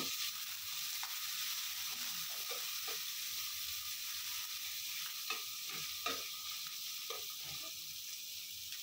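Chilli, onion and garlic fry together in hot oil, giving a steady close sizzling hiss broken by scattered clicks and scrapes of a stirring utensil against the pan, with no talking.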